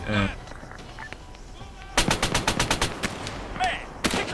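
Tank machine guns in Arma 3 fire a rapid burst of loud, closely spaced shots, with a second short burst near the end, over a low battlefield rumble and a brief spoken word.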